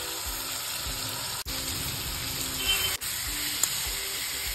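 Red lentil dal being fried in a spice tempering gives a steady close sizzle with a faint hiss throughout, broken by two brief dropouts and a small click near the end.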